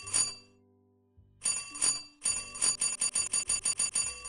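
A room service bell in a video game is struck about a dozen times, first with gaps and then in a fast, steady run of bright metallic dings, each one loud and close.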